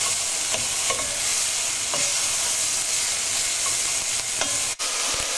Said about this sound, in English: Our vegetables are all cooking nicely now, sizzling in the pan